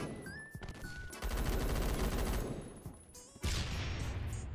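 An MG36 machine gun firing in a first-person shooter, sustained rapid automatic bursts with a brief pause between them, moderately loud among game sound effects and tonal interface chimes.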